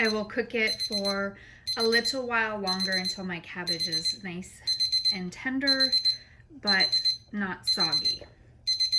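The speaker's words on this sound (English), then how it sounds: "that is my alarm going off to tell me we're at 160" A kitchen timer alarm beeps in repeated rapid bursts while corned beef and cabbage cook, steady and clear under continuous close talking throughout.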